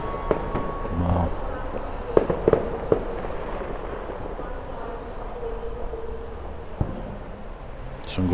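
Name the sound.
fireworks going off on bonfire night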